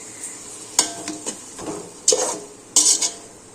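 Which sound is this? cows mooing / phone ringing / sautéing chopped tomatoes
sautéing chopped tomatoes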